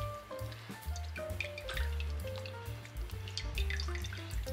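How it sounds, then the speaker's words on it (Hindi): Water drips and trickles as fresh homemade mozzarella is squeezed and pressed by hand, soft irregular splashes over a faint musical background. "तो इसका दबा दबा के इसका पानी निकालूँगी मैं"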